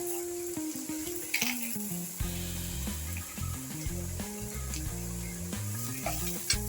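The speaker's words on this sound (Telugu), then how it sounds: "ధనియాలు, జీలకర్ర, ఎల్లిపాయలు వేయించుకున్నాం" Coriander seeds, cumin and garlic frying in a pan, a steady close sizzle and crackle with scraping and stirring of a spatula against the metal, continuous throughout.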